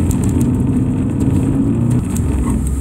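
A Subaru Impreza engine revs hard and steadily during an ice racing autocross run, the loud sustained roar filling the clip with slight changes in pitch as the throttle is held.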